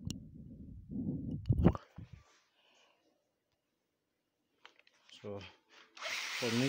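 A power drill used as a mixer whirs in short loud bursts at the start, then quiet, then a few scraping knocks and another burst of drilling.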